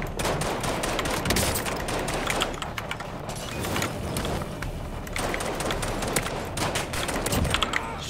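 Sustained gunfire in the Call of Duty Warzone video game, dense overlapping bursts of automatic and single shots rattling continuously with brief gaps, loud throughout.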